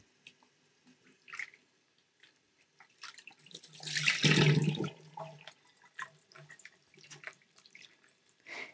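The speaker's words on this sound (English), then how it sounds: "Now we're gonna run cool water through the butter until it runs all the way clear, rinsing it with your fingers." Cool tap water runs over homemade butter while it is rinsed, a steady splashing rush swelling loudly in the middle of the clip, with scattered drips, clinks and handling noises before and after it.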